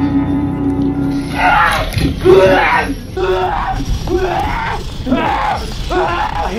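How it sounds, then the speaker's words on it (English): A person yells and screams in a drawn-out, strained way during a horror hide-and-seek game, loud and close, with gasping groans between the cries. "I hear yelling."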